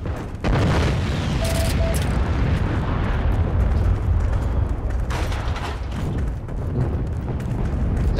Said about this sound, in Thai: ยานระเบิด